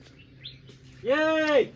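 A large black parrot gives one loud, harmonic squawking call lasting about half a second, close by, after a brief soft sound and a short spoken syllable.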